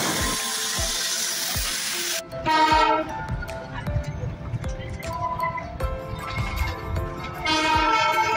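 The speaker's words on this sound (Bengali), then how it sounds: "ট্রেনটি পাহাড়ি সৌন্দর্যের মধ্য দিয়ে চলে।" The Darjeeling Himalayan Railway toy train runs on its winding mountain route from Siliguri to Darjeeling, with loud sustained horn or whistle blasts over a rhythmic clatter of wheels and carriages.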